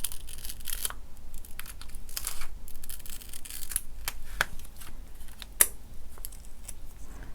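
Scissors snip a hook-and-loop velcro strip in half for a knitted earphone pouch, giving a series of short crisp cuts and rustles at close range in a quiet room.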